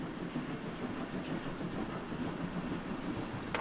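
Steam express locomotive 01 1104 running with its train gives a continuous low rumble and rolling noise heard from inside the coaches, fairly faint and steady.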